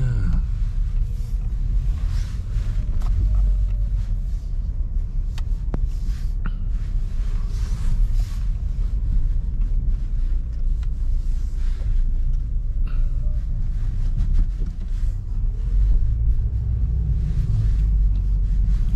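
Car interior while driving home, a steady low rumble and road hum throughout with occasional faint bumps and rattles, no voices.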